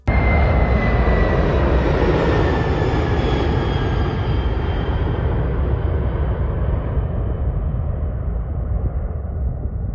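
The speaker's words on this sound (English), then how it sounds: "This is the world's biggest plane by wingspan," The Stratolaunch, the world's largest plane by wingspan, roars past with its jet engines, a loud broadband rumble that slowly fades and thins as it moves away.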